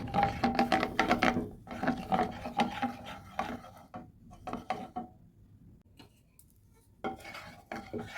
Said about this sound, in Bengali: যেই চিনিটা ক্যারামেল হয়ে গেছে ওটাকে নেড়ে আবার